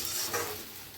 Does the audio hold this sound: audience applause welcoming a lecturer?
no